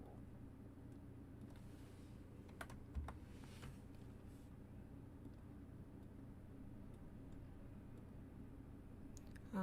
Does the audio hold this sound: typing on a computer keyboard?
yes